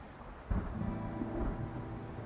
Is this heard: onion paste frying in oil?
no